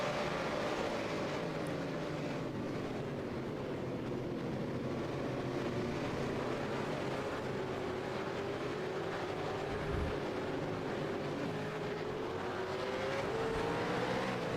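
Race cars climbing a hill in a Shannons Nationals event, a sustained loud engine drone with a slowly rising and falling pitch as the cars pass, steady throughout with no voices.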